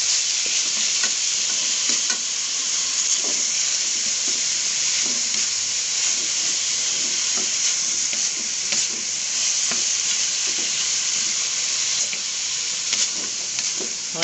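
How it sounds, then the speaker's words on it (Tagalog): Vegetables being sautéed in a pan for home-cooked food to sell, a steady, close, loud sizzle with faint scrapes and stirring clicks throughout, no talk. "Ginisa ko na."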